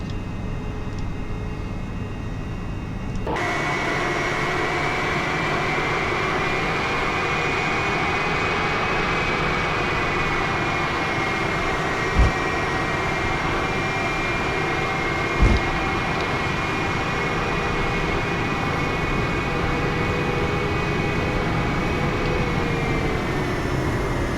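Simulated Boeing 777 airliner rolling slowly for takeoff in X-Plane 10, a steady loud jet engine whine and broad rumble that begins abruptly and holds constant, with a couple of faint thumps along the way.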